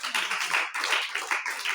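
Congregation at a French-speaking church service clapping for the Lord, a dense, continuous patter of many hands with a slight pulsing rhythm, close and steady throughout.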